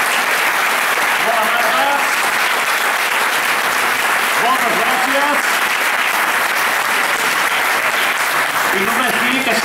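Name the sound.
audience applause at concert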